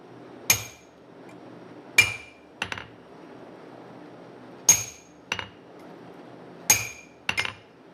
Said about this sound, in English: Hitting the anvil with my tool is not good